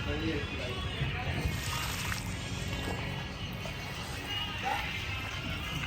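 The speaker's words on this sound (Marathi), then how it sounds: "मित्रांनो, आम्ही आता हा पाला धुतोय." Leafy greens being washed in water, with continuous close sloshing and splashing that fills the scene and a voice talking faintly underneath.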